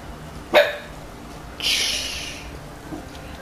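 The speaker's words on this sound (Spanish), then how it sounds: "Las perras ya están ladrando." Dogs barking in The Witcher 3: Wild Hunt, a single sharp bark followed a second later by a longer, brighter yelping bark, moderately loud over quiet ambience.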